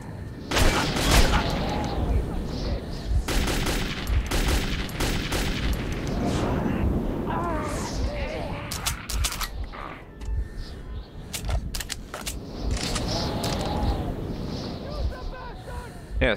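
Gunfire in the post-apocalyptic shooter Metro 2033: rapid, loud bursts of shots crackle throughout, overlapping with a voice talking and reacting, with a dense volley in the first half and scattered sharp cracks later.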